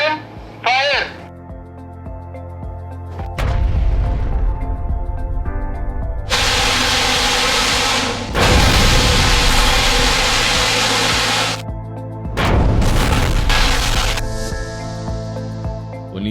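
Rocket launch at the BIT Mesra rocketry department, a loud sustained roaring hiss of the motor firing that surges and cuts in bursts over about fifteen seconds, with brief voices near the start.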